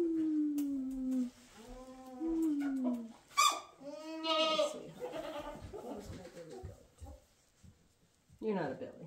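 A goat bleats several times close by, long wavering cries with pauses between, with a person talking softly in the background.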